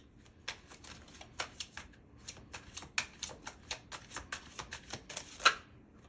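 Tarot cards being shuffled close up, a fast run of crisp riffling bursts over about six seconds with a brief pause near the start, ending in a sharper snap.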